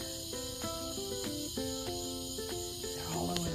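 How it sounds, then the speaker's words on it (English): Frogs or insects in a garden yard keep up a continuous high chirring and trilling chorus, fairly close and steady throughout, with no talk over it. "you hear the frogs?"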